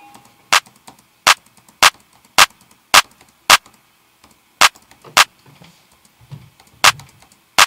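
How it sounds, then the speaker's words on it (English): A single drum sample run through Camel Crusher distortion repeats as sharp, crisp, hard-edged hits in an even rhythm, with faint low rumbles between some strikes. "There's a free plugin actually called Camel Crusher that's got a really nice distortion sound to it"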